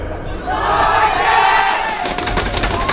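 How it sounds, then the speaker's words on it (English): A packed crowd erupts in wild cheering at a StarCraft GSL match, a loud swelling roar that builds and holds over a few seconds. "Crowd goes wild."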